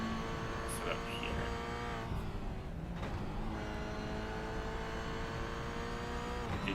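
A Toyota GR86 on the Oschersleben circuit holds a loud, steady engine drone that dips and climbs again as the car downshifts, with people talking over it.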